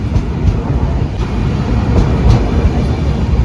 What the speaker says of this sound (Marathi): तर आपली ट्रेन आलेली आहे